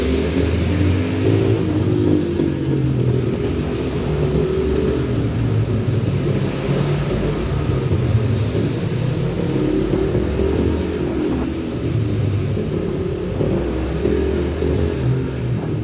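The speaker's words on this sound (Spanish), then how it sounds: "Hoy es mi primer día montando minimotos." A mini motorbike engine drones and revs continuously while being ridden, loud and close, with a steady buzzing roar and slight rises in pitch throughout.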